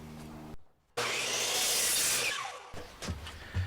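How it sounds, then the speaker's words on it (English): A chop saw cuts through wooden cabinet pieces in one loud, close, sustained pass of about two seconds that then fades, with brief bumps and knocks of handling wood afterward. "The last thing I'm going to do is take these pieces over to the chop saw."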